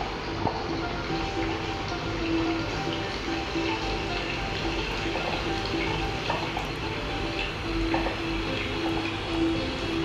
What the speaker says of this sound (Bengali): হ্যাঁ তো নাড়তে হবে, না হলে দলা পাকিয়ে যাবে।